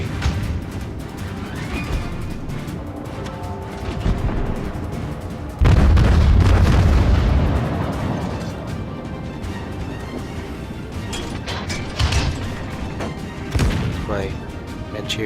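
Explosions from a dive bomber attack on a warship in World of Warships, a heavy booming blast in the middle standing out over a rumbling battle bed, with scattered sharper impacts before and after.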